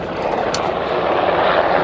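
A military helicopter flies in near a hilltop outpost in Afghanistan, its rotor and engine forming a loud, steady, close roar that swells slightly as it approaches, with no voices.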